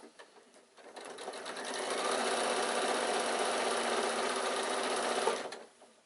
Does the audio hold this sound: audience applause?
no